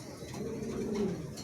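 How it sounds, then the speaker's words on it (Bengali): A pair of pigeons cooing close by, a soft low throaty coo rising and falling, quiet and alone. "চমৎকার একজোড়া কবুতর আছে"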